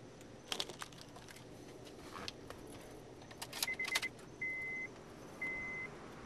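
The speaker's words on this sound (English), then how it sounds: "We're going to go ahead and get the keys." Car keys jangle in a few short bursts near a vehicle during a Weapon R I-Throttle controller install, followed by two brief steady electronic beeps.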